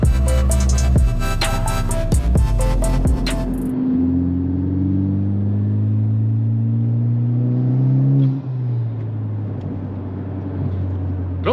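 A freshly tuned car engine revs hard at first, then settles into a steady, loud rumbling idle with a rising and falling pitch. The engine is close and there is no talking.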